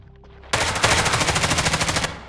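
Rapid automatic gunfire in a Roblox shooter game, a loud burst of evenly spaced shots lasting about one and a half seconds, with no voices over it.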